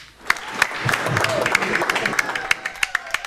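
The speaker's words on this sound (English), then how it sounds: "Give him a round of applause" Scattered clapping from a trivia show audience, uneven and moderately close, with a few sharp individual claps standing out near the end and voices murmuring underneath.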